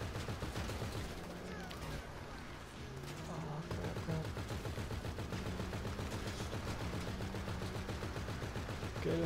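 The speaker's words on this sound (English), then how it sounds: "Keep shooting at him." Rapid gunfire in GTA 5 Online, a video game, rattles in fast repeated bursts like machine-gun fire, fairly faint but continuous, with players talking underneath.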